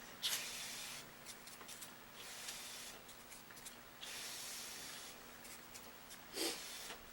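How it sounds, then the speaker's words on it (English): A person blows on a freshly applied alcohol-based dye so it dries faster: several breathy, close bursts of air hiss, separated by short pauses, with a stronger puff near the end. "I'm gonna just blow on a little bit."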